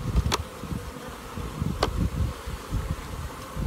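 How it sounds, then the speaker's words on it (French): Honey bees from a drone-laying colony flying back into the hive entrance, a close, dense buzzing hum with a couple of sharp passing fly-bys, no voices. "les abeilles de la bourdonneuse qui vont revenir là, elles vont rentrer là"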